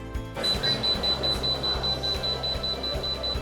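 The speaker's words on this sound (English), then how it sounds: "When the cook timer is finished, an alarm alerts you to remove the product from the oil." A Vulcan ER Series electric commercial fryer's cook timer alarm sounds a steady, high electronic beep that holds on throughout, loud and close over a rhythmic low mechanical pulsing and kitchen background.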